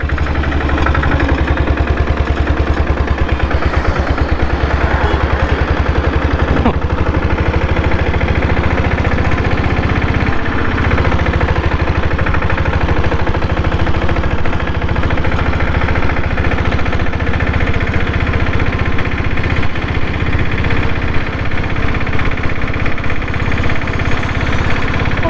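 A Royal Enfield diesel Bullet motorcycle engine runs steadily and loud for the whole stretch, a continuous low thudding idle with a knocking pulse, close by and with no talk over it.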